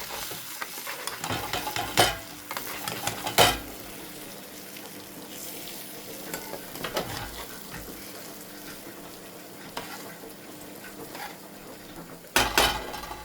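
Eggs fry in a pan on low gas as a spatula scrapes and turns them, with a steady sizzle underneath and a few louder metallic clinks and knocks, close and without talking.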